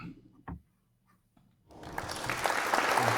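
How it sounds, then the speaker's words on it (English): A few scattered knocks and quiet moments give way to a burst of applause that rises after about a second and a half, steady clapping building to fill the rest. "Wait, that deserves an applause."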